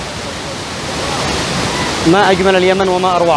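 At Bayt al-Kabsh in Al-Haymah Ad-Dakhiliyah, Yemen, a waterfall rushes as a loud, steady wash of white noise, heard from close by while someone speaks over it.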